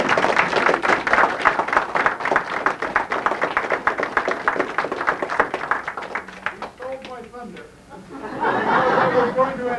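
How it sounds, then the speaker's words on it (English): An audience at a museum hat and millinery show gives a sustained round of applause, dense close clapping that thins out near the end with scattered chatter and light laughter. "I think you all deserve a round of applause"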